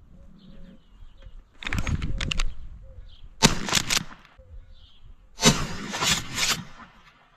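Gunshots aimed at a piebald dove in a backyard, three loud sharp blasts with echoing tails spaced a second or two apart, with soft dove coos between them.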